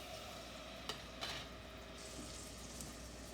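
Chopped onion sizzles in butter in a pan over medium-high heat, a steady faint hiss broken by a couple of short stirring scrapes, with no one talking.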